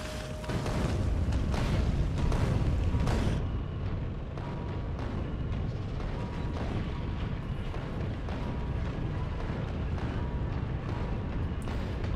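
Cannons fire in the factory-building game Factorio: Space Age, a dense, continuous barrage of rumbling booms and bursts that is loudest at the start and then settles into a steady roar.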